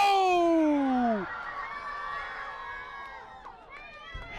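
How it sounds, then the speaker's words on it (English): A stadium crowd at a soccer match, Alloy SC vs Philadelphia SC, rises in a loud groaning scream after a missed chance, then settles into a sustained roar of voices that fades slightly. "Heads in the hands from the crowd, screams."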